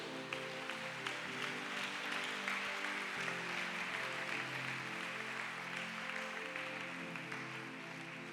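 A congregation claps and cheers during a French-language church praise and worship service, a dense, sustained wash of applause over organ-like held tones, with no pause.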